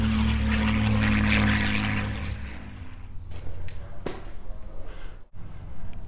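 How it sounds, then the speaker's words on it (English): A P-51 Mustang piston propeller aircraft roars loudly in flight, then fades as it passes. A lighter rumble and scattered clicks follow. A voice can be heard faintly. "That's his first flight in a P-51. That's a great sound,"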